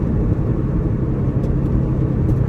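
A 1979 Chevy C-10 pickup, revived after eight years in a tow lot, idles with a steady, smooth low rumble, close and continuous with no voices.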